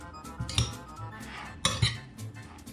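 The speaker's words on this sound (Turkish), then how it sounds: "Şunu yaptıktan sonra onu bir güzel karıştırıyoruz." A utensil stirs pizza dough ingredients, salt and oil, in a bowl, giving two clear clinks against the bowl amid soft scraping, close and fairly quiet.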